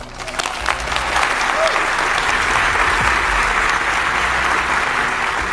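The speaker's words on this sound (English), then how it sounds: "Let's give a round of applause to the engineers, scientists, and administrators" An audience applauds engineers, scientists and administrators, sustained loud clapping from a crowd that swells at the start and holds steady to the end.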